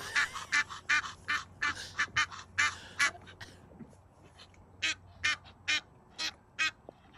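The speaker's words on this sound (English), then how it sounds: "They're antagonizing the geese." Geese honking and squawking in a rapid series of loud, harsh calls, bunched near the start and again toward the end, close by outdoors near a dead horse, with a low steady rumble underneath.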